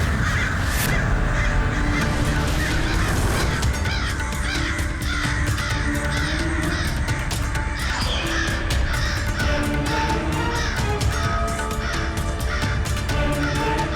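A flock of crows cawing loudly and continuously, many overlapping harsh calls close by for the whole stretch.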